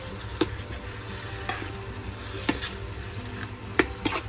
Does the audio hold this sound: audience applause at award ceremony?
no